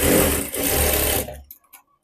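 A sewing machine runs a steady, loud, close stitch along a blouse hook-and-eye strip for over a second, then stops abruptly, leaving a few faint clicks of fabric handling.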